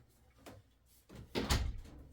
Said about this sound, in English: I am going to shut the door in here